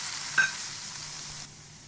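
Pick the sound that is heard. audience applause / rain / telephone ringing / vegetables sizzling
vegetables sizzling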